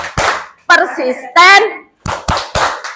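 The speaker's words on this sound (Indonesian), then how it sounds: "tepuk tangan untuk kita semua" A group in a community seller workshop chants a motto together, with sharp rhythmic hand claps between the spoken lines, close and loud under the voices.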